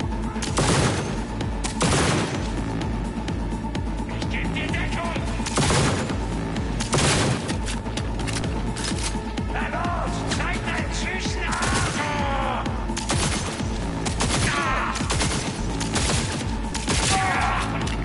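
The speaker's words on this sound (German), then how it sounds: "Wir müssen schießen." Bursts of gunfire in Cyberpunk 2077 crack out in a steady sequence of loud, sharp shots and rapid volleys amid an ongoing firefight.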